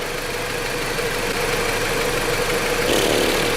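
A 2008 Dodge Avenger engine that is overheating and under heavy pressure idles close by, a continuous low rumble with a faint mechanical hum and no talking.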